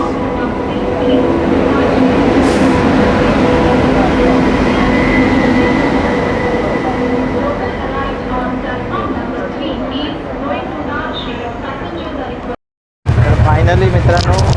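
A Mumbai local train runs on the rails, its loud, steady rumble and clatter filling the carriage for most of the stretch before a brief cutout, with someone speaking over the noise.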